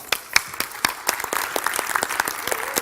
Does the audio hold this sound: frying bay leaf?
no